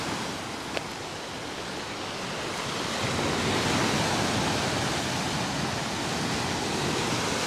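A rough sea breaks on the shore at Alushta, Crimea, after a storm, a continuous wash of surf that swells louder around midway and stays full, with no voices.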